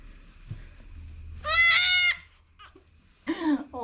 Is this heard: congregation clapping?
no